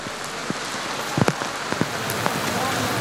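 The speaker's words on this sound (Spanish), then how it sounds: "La lluvia ha deslucido este momento tan esperado" Steady rain falls outdoors in Aragón, drumming densely on hard surfaces with scattered sharper drops and taps throughout.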